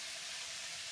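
Cauliflower curry cooking in a pan on a new gas stove, giving a steady, soft sizzling hiss that runs unbroken and fairly faint throughout, with no voices.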